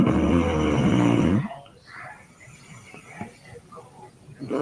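A woman snores in loud, rasping bursts at the start, then the sound drops to quieter breathing and faint background noise with a last rise at the end.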